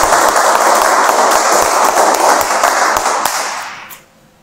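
A lecture audience at a talk on basic income breaks into sustained applause, dense and steady for about four seconds before quickly tapering off to near silence.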